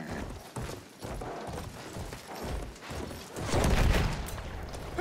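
Horse hooves galloping in the World War I shooter Battlefield 1, a steady rapid rhythmic pounding at moderate level mixed with game noise and mechanical clatter, no talk.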